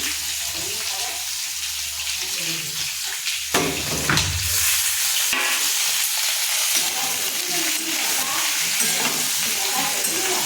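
Papaya and potato pieces fry in a pan, a continuous sizzling hiss with occasional stirring scrapes and clatter around the middle, heard close and steady for several seconds.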